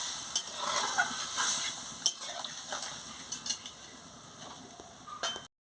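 Stirring a curry of morula fish and telakucha greens in a pan: a soft simmering sizzle with a few clinks and scrapes of the spoon against the pan, fairly quiet.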